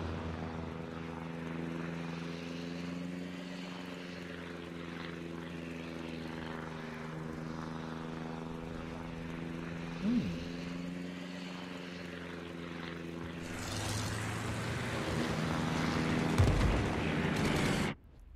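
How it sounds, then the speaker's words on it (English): Propeller aircraft in a naval combat video game drone steadily with a low, layered engine hum, then a sudden louder burst as the planes are shot down, ending abruptly. "Those aircraft just got shot down."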